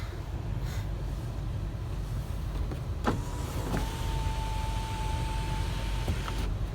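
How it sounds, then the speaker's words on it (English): An electric moonroof on a 2003 Toyota Highlander Limited opens with a steady motor whine and a couple of soft clicks, heard close inside the cabin over a low hum, with no talking. "Moonroof operates as it should."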